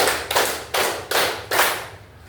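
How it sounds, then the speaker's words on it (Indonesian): Schoolchildren clap together in time with a teacher's counting, giving four crisp, evenly spaced group claps, loud and near, with no voices over them. "Tepuk 1, tepuk 2, tepuk 3, tepuk 4"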